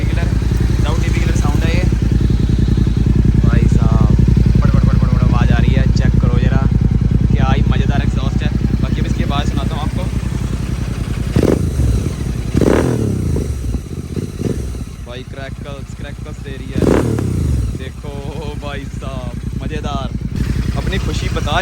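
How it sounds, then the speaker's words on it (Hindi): Royal Enfield GT650 fitted with a Red Rooster exhaust and the dB killer removed, loud and close, with a deep idle rumble and repeated sharp throttle revs while people talk over it. "DB किलर निकाल दी हुए हैं इसके, ये बड़े हैं DB killer, without DB killer sound है ये"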